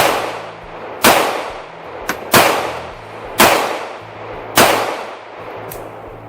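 A Beretta Tomcat pistol fires .32 ACP rounds at a range, four sharp loud shots spaced about a second apart, each with a ringing tail, plus a fainter metallic clink between them.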